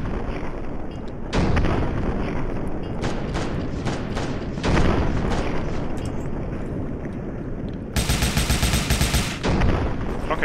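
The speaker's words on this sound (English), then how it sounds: "this tank actually shot that tank over there" Tank cannon fire and heavy explosions in the WarAgain demo war video game, loud sustained booming blasts with a sharp bright burst near the end, dense and continuous with no talking.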